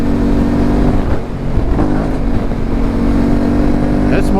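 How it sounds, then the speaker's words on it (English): Yamaha T7 adventure motorcycle with a Camel ADV high exhaust and the dB killer removed, revving up close with a rough, loud, steady engine drone and a brief dip in throttle. "that's more responsive with the restrictions out of the muffler there"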